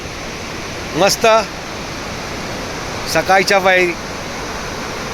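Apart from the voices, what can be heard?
Marleshwar waterfall flowing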